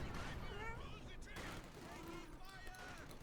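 Gunfire and field gun bombardment from a Company of Heroes 2 battle between German Wehrmacht and Soviet forces, a dense continuous rumble of shots and booms with a commentator talking over it throughout.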